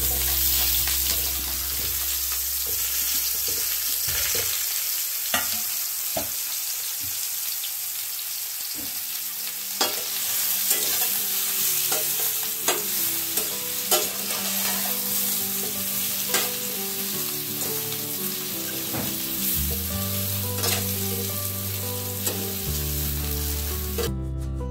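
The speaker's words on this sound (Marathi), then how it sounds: "मंद आचेवर फ्राय करूया।" Mushrooms fry in hot oil over a low flame, a steady close sizzle with occasional stirring scrapes and clinks throughout, with no talking.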